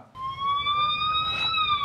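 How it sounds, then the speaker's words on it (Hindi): A short electronic siren tone from a GPS tracker alert on a mobile phone rises and holds in a steady wail for about two seconds, clear and fairly loud. "आपको आपके मोबाइल पे एक नोटिफिकेशन वाला सायरन आ जाएगा"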